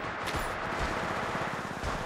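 Automatic weapon fire in the battle royale game Apex Legends, a dense, steady stream of rapid shots rattling without pause over two seconds, with no voices.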